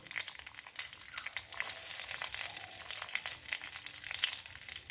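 Cumin seeds spluttering in hot refined oil with a pinch of sugar, a dense steady sizzle with fine crackling pops running throughout, close and fairly loud, no voices.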